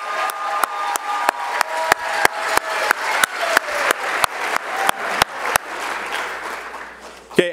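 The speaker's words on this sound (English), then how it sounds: "Let's have one more round of applause for our 2019 National Letter of Intent signees." A high school auditorium audience claps for National Letter of Intent signees, a steady run of applause with sharp regular hand claps that trails off near the end.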